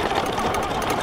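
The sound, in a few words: Ariel Rider Grizzly electric scooter dual motors riding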